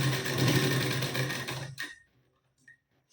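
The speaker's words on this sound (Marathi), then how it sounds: "तर मी इथे शिलाई देऊन घेते बघा" Sewing machine stitching a line on a blouse, a dense steady mechanical whir for about a second and a half before it stops, leaving a near-silent tail with a few faint clicks.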